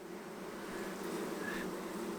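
Honey bees buzz over a hive frame during swarm-season hive management, producing a continuous low droning hum from many insects at close range. The sound stays even and fairly soft, with no voices.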